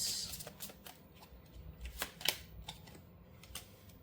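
Tarot cards are shuffled and drawn at close range, heard as quiet, irregular flicks and snaps of card stock with short soft bursts spread across a hushed background.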